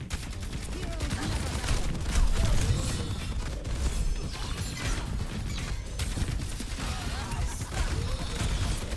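Rapid weapon fire from the video game Overwatch 2, dense bursts of gunshots and mechanical clatter layered with game effects, loud and continuous throughout.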